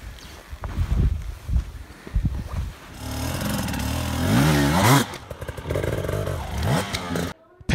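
A dirt bike engine revs and surges up and down in pitch as the rider works the clutch to cross a rock or log obstacle, loud and close, with short bursts of throttle and some clattering.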